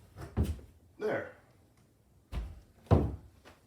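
A door thuds several times as it is pushed against its frame but fails to shut, the dull bumps close and spaced apart, with someone talking around them.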